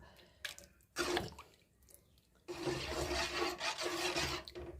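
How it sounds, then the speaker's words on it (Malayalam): Remaining coconut milk is poured into a pot of tapioca payasam in a home kitchen, a liquid splashing and rushing sound that comes in two bursts, the longer second pour steady and close. "അപ്പോൾ കൂട്ടുകാരെ ബാക്കിയുള്ള പാലും കൂടെ ഞാൻ ഒഴിച്ചങ്ങ് കണ്ടോ"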